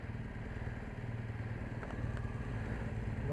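A motorcycle carrying a pillion passenger rolls slowly, its engine a steady low rumble close by, with a faint clink or two and no talking.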